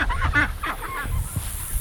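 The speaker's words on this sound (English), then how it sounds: "There's the ducks." Ducks on a garden farm give a burst of honking quacks close by, several calls in quick succession before fading into quieter background noise.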